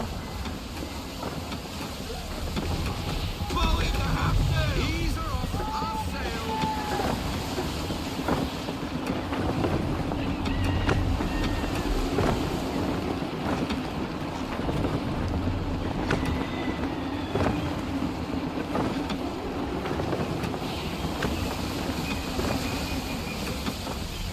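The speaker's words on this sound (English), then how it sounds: "Gusty winds can be difficult to manage" Steady gusty wind rushes over a sailing ship in Assassin's Creed 3, a continuous broadband roar with creaking and water wash beneath, holding fairly even with no clear lulls.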